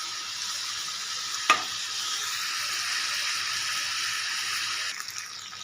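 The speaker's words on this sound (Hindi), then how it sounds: "इनको मैं इस घी में 2 से 3 मिनट के लिए इनको मैं भून लूँगी।" Potatoes and chickpeas fry in ghee and give a steady, close hiss. A single sharp clink of a stirring spoon on the pan comes early, and faint scraping follows near the end.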